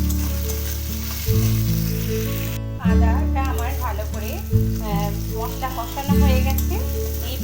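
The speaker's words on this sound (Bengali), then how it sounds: "এবার খুব ভালো মতো ভেজে নেব যাতে আদার কাঁচা গন্ধটা চলে যায়" Chopped ginger and garlic fry in hot oil for a Bengali-style masoor dal tarka, giving a steady close sizzle with a few stirring bursts, all under loud background music.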